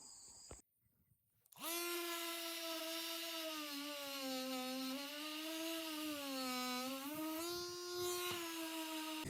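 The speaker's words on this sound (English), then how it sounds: "And you can see with this sanding with my Dewalt brushless Orbital Sander" A DeWalt brushless orbital sander whines steadily at close range on a live edge wooden picnic table for several seconds, its pitch wavering slightly as it works, after a brief start.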